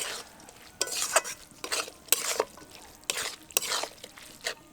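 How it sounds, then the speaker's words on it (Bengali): Banana flower, vegetables and dal stirred in a pan, with repeated close scraping strokes in an uneven rhythm over a soft sizzle, alone without talk. "সবজি, ডাল এবং মোচা সবগুলো এবার খুব ভালোভাবে নেড়ে নেব।"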